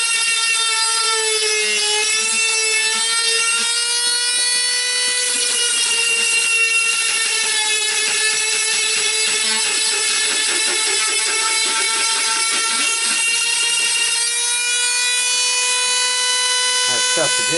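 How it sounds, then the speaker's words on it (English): A Dremel rotary tool carves a hard wood spirit goblin face, producing a sustained high, whining buzz with shifting pitch as the bit bites in and eases off, heard close and loud throughout. "I'm trying to keep the Dremel out of the way"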